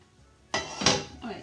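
A cooking pan set down on a stovetop while oil is added, giving a sharp metallic clatter followed by a second clunk and a softer scrape, close and brief.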